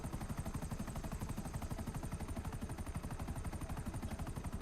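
Helicopter flying in a video game near Sandy Shores, a loud, steady rotor chop with rapid, even blade beats filling the whole stretch, no voices over it.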